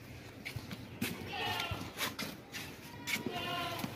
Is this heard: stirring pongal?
no